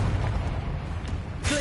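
A Confringo spell explosion in the Hogwarts Legacy video game, heard as a dense, rumbling boom with a whooshing burst near the end, loud and continuous through the short moment.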